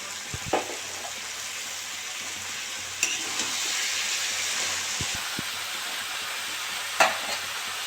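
Shredded cabbage frying in a pan with oil and spices for a Bengali chachchari, a steady hiss of sizzling with a few scraping knocks of the stirring spoon now and then.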